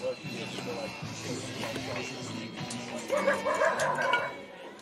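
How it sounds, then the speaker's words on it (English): A dog barks and yips repeatedly near an outdoor college softball field, with a short excited run of yelps toward the end, mixed under continuous commentary. "I hear a dog"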